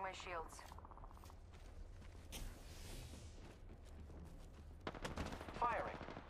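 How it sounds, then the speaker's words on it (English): Enemy gunfire in the Apex Legends video game, heard as scattered sharp shots and bursts over a busy game soundscape, with a voice briefly talking at the start and near the end. "The enemies are shooting at me."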